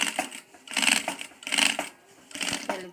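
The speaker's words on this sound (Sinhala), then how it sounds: "ඉතින් අර ගොඩක් අතේ රැලි කරගෙන මහනවා." Electric sewing machine stitching a doormat while pleats of fabric are gathered by hand, heard in three loud bursts of rapid mechanical whirring and clatter separated by short pauses.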